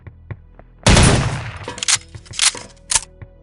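An OICW rifle in Soldier of Fortune 2 fires one loud, close blast, followed by several sharper shots and metallic clinks, with faint ticking mechanical sounds before and between them.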